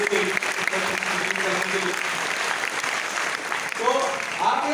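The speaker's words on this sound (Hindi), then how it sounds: "एक बार जोरदार ताली होना" Loud, sustained audience applause fills a hall during a talk celebrating 75 years of independence, dense clapping for several seconds before a voice begins speaking near the end.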